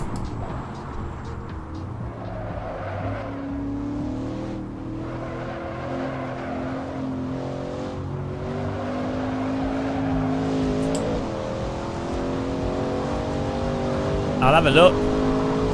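Shelby Cobra engine with a sound mod in a VR racing sim, droning steadily with shifting revs throughout and a brief sharper burst near the end, heard under ongoing talk.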